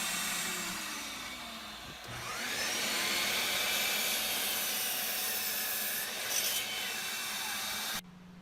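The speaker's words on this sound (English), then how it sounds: "I took just a moment at this stage to sand these" Cedar leg pieces for a garden bench are worked over by a power sander, a steady loud whirring hum with a brief dip near two seconds before it resumes and cuts off near the end.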